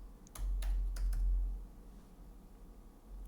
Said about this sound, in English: I'm going to go ahead and type in collections